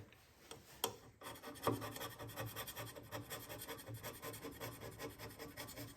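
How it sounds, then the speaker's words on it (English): A flat stone rubbed back and forth over a scraped CNC machine way, a steady rhythmic rasping scrape repeating in even strokes close up, fairly quiet with no talking. "hit it with a nice flat stone"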